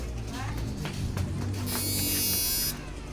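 A repaired inverter's blower fan runs with a steady electric buzz and hum, swelling briefly louder as it switches on, while a person talks over it.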